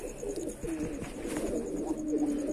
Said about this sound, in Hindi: आप देख सकते हैं किद्दी आ रही है इस कबूतर की बहुत